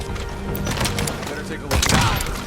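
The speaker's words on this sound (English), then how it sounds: "Heard gunfire. Direction confirmed." Several muffled gunshots crack and thud in quick bursts against a steady noisy background in Metal Gear Solid V: The Phantom Pain, louder toward the end.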